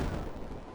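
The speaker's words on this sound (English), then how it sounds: "Let's send a plasma cannon there." Heavy booming blast of a plasma cannon in the Good Robot video game, a dense low rumble sustained through the short moment without any talk.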